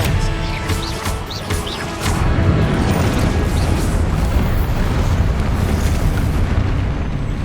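A Confringo spell explosion in the video game Hogwarts Legacy: a heavy, rumbling blast swells after a couple of seconds and holds as a dense roar with crackling debris, with small bright effect sounds on top.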